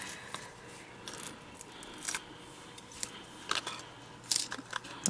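Paper card edge being trimmed during card making, with a run of short, crisp snips and cuts spread across the moment, fairly quiet and close, with no talking.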